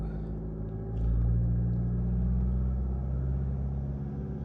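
Ford Kuga engine with a P2002 fault idles, then lifts to a steadier, louder revving drone for a few seconds, a close, continuous mechanical hum without talk.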